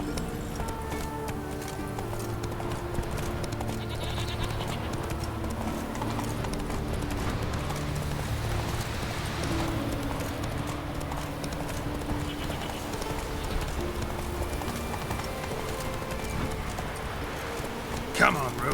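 Horse hooves clip-clop steadily in The Witcher 3 open world, a continuous moderate rhythm over ambient music, with a voice speaking occasionally and a brief louder knock near the end.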